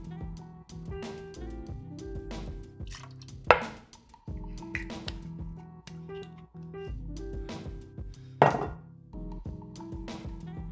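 John D. Taylor's Velvet Falernum measured out and poured into a cocktail, with soft liquid trickles, light clinks of a jigger and glassware, and two sharp knocks, no talking.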